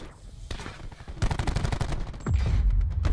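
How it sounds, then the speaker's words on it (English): Dense, rapid gunfire rattles through a competitive video game match, with continuous overlapping shots and heavier low thuds near the end. "I was shooting the shit out of Alec here too"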